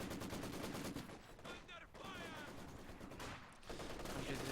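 An MG34 machine gun in a video game firing on conscripts, dense rattling bursts layered with other gunfire, loud and nearly continuous across the whole stretch.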